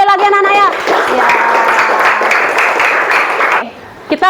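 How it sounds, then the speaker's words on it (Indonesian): Children in a classroom clapping for a group's presentation, a burst of brisk hand-clapping lasting a few seconds and then stopping abruptly, with a teacher's voice before and after. "tepuk tangan sekali lagi anak-anak ya"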